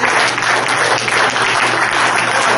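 A church congregation applauds during a pastor's sermon, a dense, loud, continuous wash of many hands clapping at once that holds steady throughout.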